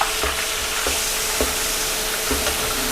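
Blue Band margarine melts in hot frying oil with a loud, steady sizzle, broken by a few soft stirring knocks at irregular intervals, with no talking.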